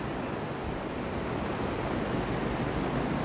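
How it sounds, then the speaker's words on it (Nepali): Large river, the Likhu Khola, flowing in a dense continuous rushing roar, loud and close, with no voices. "यत्रो ठुलो खोलामा"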